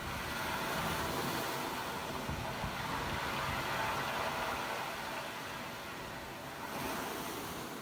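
Surf rushing over pebbles at the shore, a continuous broad wash of water that stays fairly even and moderately faint, with a slight dip and then a fresh surge near the end.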